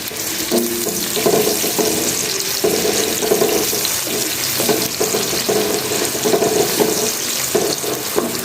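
Onions drop into hot oil for matar pulao and fry with a loud, steady, broadband sizzle that holds throughout, with no talking.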